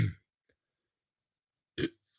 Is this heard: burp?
yes